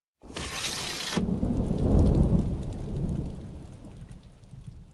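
A loud crack of thunder breaks out and then rolls away into a low rumble over steady rain that pours and patters on surfaces, with nobody speaking.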